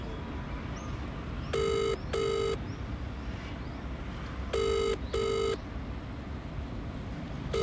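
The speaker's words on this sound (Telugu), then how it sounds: "ఫోన్ చేయి ఒకసారి" Phone ringback tone during an outgoing call, two pairs of short repeating rings separated by a long pause, clear and close over a steady low background hum.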